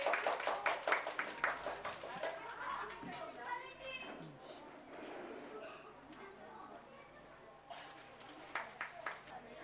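Audience clapping for a child performer at a children's festival in an apartment complex, a burst of scattered applause at the start and again near the end, with people talking in between.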